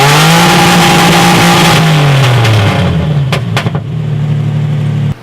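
A big, loud truck engine revs hard up close, then the pitch drops as it eases off, with a couple of sharp bursts before settling into a lower steady rumble that cuts off abruptly.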